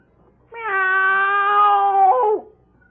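A voice imitates a cat, giving one long, drawn-out meow that holds steady and then drops at the end, clear and close against near silence, in a 1951 NBC radio drama.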